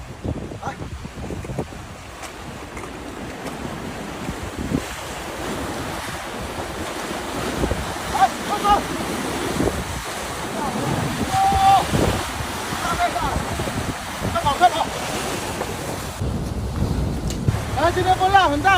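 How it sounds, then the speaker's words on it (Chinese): Strong wind buffets the microphone while waves surge and crash continuously along a seashore on a stormy, rough-sea day, building slightly louder toward the end. "今天风浪很大哈"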